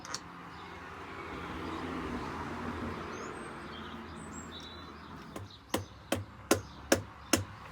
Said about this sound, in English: It's a clamp I'm hitting with the bolt just to line it up.